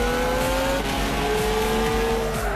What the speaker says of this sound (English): Slam on the brakes, of course